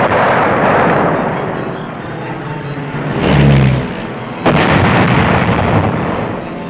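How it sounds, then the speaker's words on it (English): Archival film of precision bombing explosions on old German battleships, with heavy, rumbling booms: a sustained roar, a deep blast midway, then a sharp crack followed by continuing thunderous rumble, loud and close. "Using some old German battleships as targets, Billy Mitchell showed what precision bombing could do."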